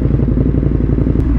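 A Ducati Streetfighter V4 or KTM Super Duke motorcycle rumbles loudly and steadily up close as the rider sets off after a dyno session, with a brief clatter near the end.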